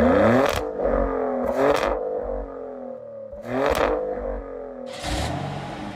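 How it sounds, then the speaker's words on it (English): The twin-turbo 3-liter V6 of a 2024 Maserati Grecale Trofeo revs hard several times in quick bursts, the exhaust note rising and falling with pops and crackles between revs, close and loud. "Wait till you hear the exhaust note."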